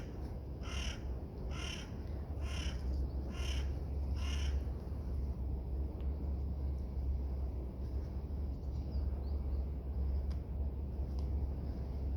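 Crows gathering at a bird feeding give five loud, evenly spaced caws, then fall quiet, over a steady low outdoor rumble.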